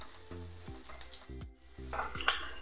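Crushed garlic, about five cloves, sizzles in hot oil in a pan, a steady close frying hiss broken by several rhythmic scraping strokes of a spatula against the metal, with no talking.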